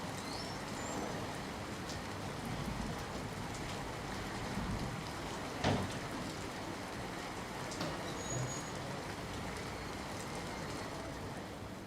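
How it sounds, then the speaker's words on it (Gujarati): Continuous rain falls in Bhavnagar during the monsoon, a steady broadband hiss of drops on surfaces with a faint passing thud, no voices. "સતત વરસાદી માહોલ ભાવનગરમાં જોવા મળ્યો છે"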